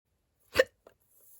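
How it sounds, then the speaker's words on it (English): A single short hiccup, quiet and close, followed by a fainter small catch and near silence. "Oh, listen to those hiccups."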